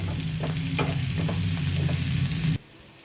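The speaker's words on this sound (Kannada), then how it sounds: "ಈಗ ಸೊಪ್ಪು ಹಾಕ್ಕೋತೀನಿ ಇದು ಚೆನ್ನಾಗಿ ಫ್ರೈ ಮಾಡ್ಕೋಬೇಕು" Fenugreek greens fry loudly in a hot pan while being stirred, a steady sizzle with scraping strokes through the leaves that stops abruptly near the end; no one speaks.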